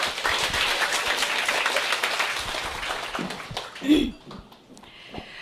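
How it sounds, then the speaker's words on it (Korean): A gathered crowd at a company assembly gives big applause as a presenter comes forward, with dense clapping that fades out near the end amid a few brief voices. "나오실 때 큰 박수 부탁드리겠습니다."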